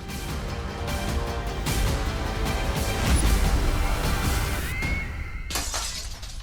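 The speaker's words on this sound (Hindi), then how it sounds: "विवान ने क्रिकेट की गेंद से फिर से खिड़की के शीशे तोड़ना शुरू कर दिया" Window glass shattered by a cricket ball, heard as a loud, sustained crash of breaking and tinkling shards that fills the whole span, close and dense, with no talking.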